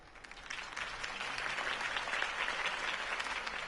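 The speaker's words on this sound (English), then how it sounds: "could have heard that applause" A crowd applauds steadily in the Telltale Batman game, dense clapping rising slightly and holding, heard at moderate distance without voices.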